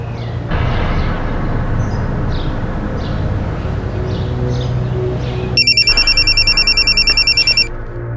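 A telephone rings with a rapid trilling electronic burst that enters partway through over a low rumbling background, loud and close, lasting about two seconds.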